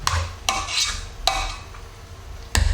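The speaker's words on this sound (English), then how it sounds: "So give that a really, really good stir now. Can you use a spoon?" A spoon stirring the mashed topping for a cottage pie in a bowl, with a few sharp clinks of metal against the bowl spaced irregularly between soft scraping.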